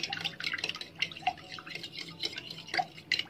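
Milk, two eggs, salt and pepper are beaten together in a cup, making quick, irregular clinks and taps of the utensil against the cup, close and fairly soft, with no talking.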